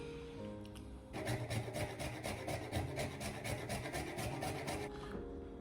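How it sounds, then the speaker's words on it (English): Whole nutmeg seed, dried after harvest, is grated fresh for cocoa tea, giving a steady close rasping scrape in quick repeated strokes for about four seconds, with no talking. "now we're going to grate some fresh nutmeg"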